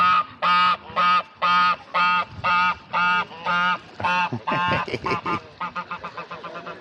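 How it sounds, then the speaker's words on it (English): A Pekin duck and a goose on a farm honk in a steady run of loud, close, evenly spaced calls, quickening into faster, shorter honks toward the end, with no talk over them. "that's a Pekin duck and a goose"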